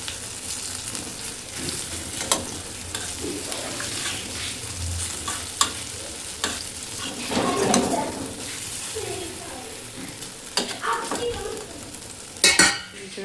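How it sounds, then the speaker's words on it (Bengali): Taro fritters frying in hot oil give a steady sizzle beneath repeated stirring scrapes and clinks of a utensil against the pan, with a few sharper knocks toward the end. "তেল দিলাম, তেল দিয়ে ভেজে নেব।"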